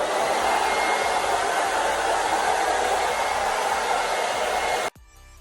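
A hair dryer runs steadily as hair is dried upside down, a loud continuous whirring blow for about five seconds before it cuts off abruptly.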